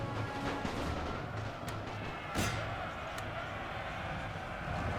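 Cannon fire in The Great War, a World War I strategy game set in Serbia: a few dull, scattered booms sit inside a steady wash of battle noise, with a voice talking over it.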